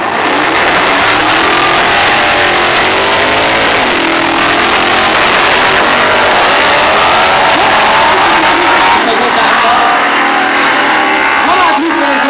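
The loud, roaring 5.7-litre V8 of a Chevy El Camino screams up through its revs at a drag race at Rába Ring, Écs, with crowd noise and a talking announcer blended into the din.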